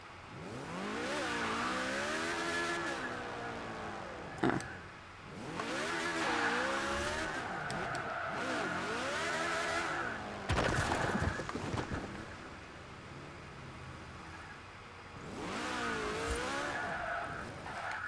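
An Austin 7 in Forza Horizon 4, running a tuned Horizon Super7 build, is driven hard in several loud bursts. Its engine revs rise and fall, with tire squeal and skidding between brief pauses.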